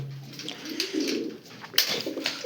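Soft, low coos of red Chinese pigeons rise and fall close by, a few throaty calls in a short sequence with light rustling in the background.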